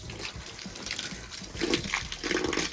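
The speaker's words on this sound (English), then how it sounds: "Let's see if we get any dirty water coming out the bottom." Dirty runoff water draining out from the bottom after a patio is pressure washed, a steady close wash of running, gushing water that swells louder in the second half.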